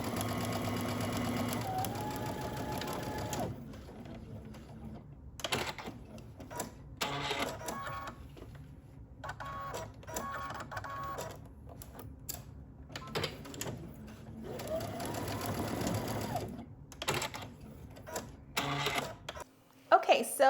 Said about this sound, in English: so we're just going to stitch using 5/8 of an inch seam allowance.